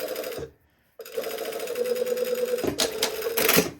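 A sewing machine stitching a fabric sleeve runs in close mechanical bursts, stopping briefly before whirring steadily again, with a few louder clunks toward the end.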